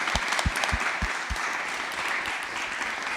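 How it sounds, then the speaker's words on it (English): Applause from an audience, dense clapping at steady loudness with some heavier individual claps standing out early on. "I just wanted to give you another round of applause"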